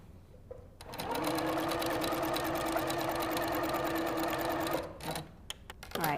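Little Rebel sewing machine stitching with its top thread tension cranked too tight, a fast steady mechanical whir and needle clatter running for about four seconds, close and loud, followed by a few short bursts.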